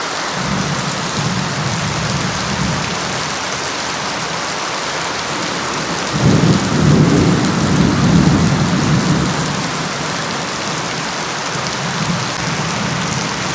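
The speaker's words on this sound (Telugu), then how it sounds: "బాగా వస్తుంది, దంచి కొడుతుంది రెయిన్." Heavy rain pours steadily outdoors near a porch, a dense continuous hiss with a swell of low rumbling thunder rolling in midway and fading back into the downpour, no voices.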